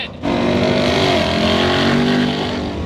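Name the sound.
2025 Ford Mustang FP800S race car engine on track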